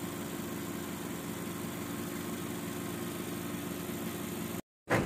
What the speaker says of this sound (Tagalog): Umaantar na nga pala yung makina nung dumating ako.